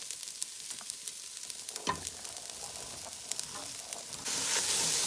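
Peas being stirred as they fry in a pot for vegetarian Guyanese ground provision cook-up rice, with black pepper and salt: a steady close sizzle with scattered scraping clicks, growing louder and hissier near the end.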